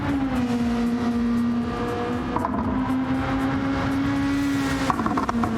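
Race cars lapping Laguna Seca in a racing video game, with a steady loud engine drone that holds a sustained pitch throughout and a brief shift near the end, with no talking.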